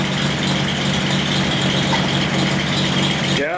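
A Datsun 240Z that had sat unused for years idles on a replacement fuel pump, running loud and steady with an even, rattling beat and a small exhaust leak at the header, close up and uninterrupted.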